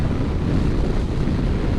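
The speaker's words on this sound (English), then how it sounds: "that's a lot of wind coming off that" Steady, loud wind buffeting over the microphone while riding a Voge DS625X motorbike with a very low windscreen, a continuous broadband roar with no pauses.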